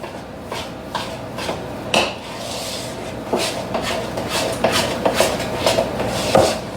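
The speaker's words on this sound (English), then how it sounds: "So we're going to mix that all up." Cornbread batter mixed with melted butter gives a steady run of irregular scraping and thudding strokes against the bowl, close and fairly loud, with no talking.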